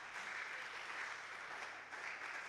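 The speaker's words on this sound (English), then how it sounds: "I would love everyone to clap because it's noisy." Conference audience clapping at the close of an event, a dense steady burst of applause filling a large room at moderate level.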